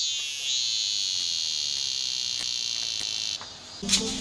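A loud, continuous high-pitched Hyalessa maculaticollis cicada drone holds steady for several seconds, then cuts off abruptly, followed by a brief rustling clatter.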